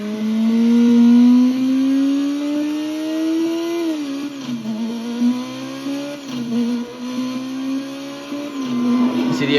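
A compact car's engine in the racing game Burnout Legends accelerates hard, its steady whining tone climbing in pitch, dipping briefly at gear changes and then rising again, loud and continuous throughout.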